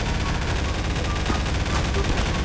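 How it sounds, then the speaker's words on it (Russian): Dense, continuous Garry's Mod combat noise with gunfire and a booming bomb blast, loud and chaotic throughout with no clear pauses. "Блин, бомба взорвалась."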